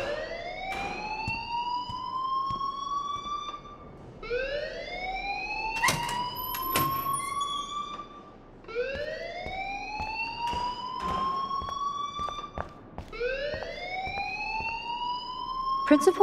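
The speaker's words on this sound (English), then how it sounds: "please turn off that alarm since that's your job" A school fire alarm in the video game Life Is Strange wails in repeated rising electronic sweeps, loud and steady, with brief sharp clanks between cycles.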